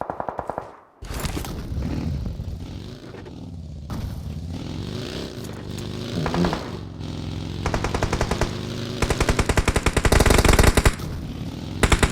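Rapid bursts of automatic gunfire rattle almost continuously, with repeated single shots and clattering, dense and loud throughout like a combat game.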